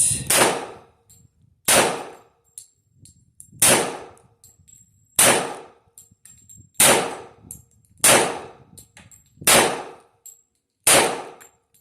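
A 1911 .45 Auto pistol fitted with a compensator fires eight loud, sharp shots at a range, evenly spaced about one and a half seconds apart, each followed by a short ringing decay.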